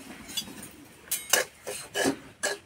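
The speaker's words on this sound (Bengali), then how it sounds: "উনানে কড়াই বসিয়ে দিয়েছি। কড়াই দিয়ে দেবো সুজি।" Semolina being stirred in a wok on the stove, heard as a series of scraping, clinking strokes of a spoon against the metal pan, irregular and fairly quiet, with short gaps between strokes.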